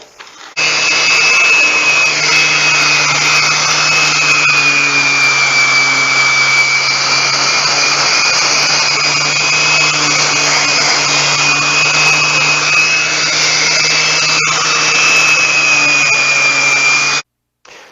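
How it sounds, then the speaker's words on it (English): Power sander running steadily on an oak picture frame, a loud continuous whine with a low hum underneath, holding for about sixteen seconds before cutting off, with no talking. "I'll go ahead and sand this thing down a little bit"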